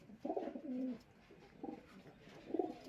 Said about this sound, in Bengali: এগুলো আমার সব উড়ানোর কবুতর